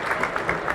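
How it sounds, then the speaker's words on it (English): Spectators at a high school wrestling match applaud the fans in a brief, steady wash of crowd clapping heard from a distance. "Round of applause for the fans."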